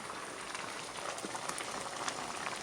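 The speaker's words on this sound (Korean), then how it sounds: "현미밥 그거 지글지글 버글버글 지금 끓고 있죠" Brown rice bubbling and boiling in water in a pot, a steady dense crackling hiss of small bursting bubbles that continues without a break, close and moderately loud, with no voices.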